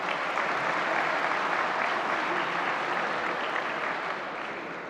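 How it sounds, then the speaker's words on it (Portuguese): Dense, steady applause from a large audience at the opening session of a legal forum in Lisbon, loud and continuous throughout, easing slightly toward the end. "Uma salva de palmas a todos, por favor."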